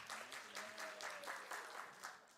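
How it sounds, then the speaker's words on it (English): Studio audience clapping for contestants at a live game-show style event, a brief, moderately loud burst of rhythmic applause with a little cheering mixed in. "Big round of applause."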